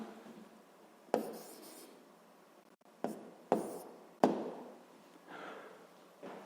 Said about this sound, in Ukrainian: Проводимо дві лінії.